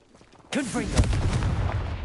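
A Confringo spell from Hogwarts Legacy explodes with a sudden loud blast, followed by whooshing, crackling fiery bursts and a second heavy impact, all close and dense.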